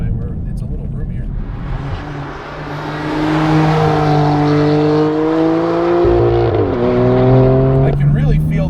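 Engine of a 525 hp track-ready BMW M4 heard from inside the car, rising through the revs, dropping sharply at a gear change and then climbing again, with a low steady drone throughout.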